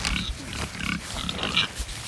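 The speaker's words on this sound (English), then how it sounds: "we got 4 pigs" Pigs on a South Carolina farm grunt and snuffle repeatedly at close range, a steady run of low rough grunts with a few higher squeaky calls mixed in.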